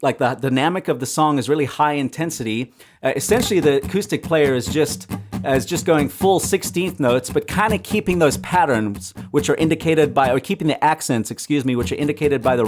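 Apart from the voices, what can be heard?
No everyday noise stands out behind the speech.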